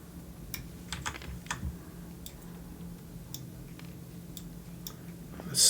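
Sparse, uneven taps on a computer keyboard come in small clusters of crisp clicks, fairly close and moderately quiet over a low background hum.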